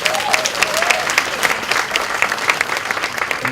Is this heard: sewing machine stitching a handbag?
no